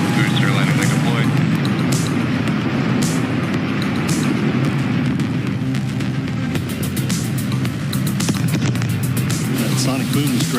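A SpaceX Starship booster returning during a flight test sends a loud, rumbling roar, with sharp crackling sonic-boom claps late on, all under continuous excited talk.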